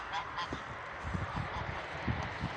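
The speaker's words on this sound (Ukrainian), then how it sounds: "Це два гусака." Two farmyard ganders honk nearby in short nasal calls at irregular intervals over a faint outdoor background on a snowy day.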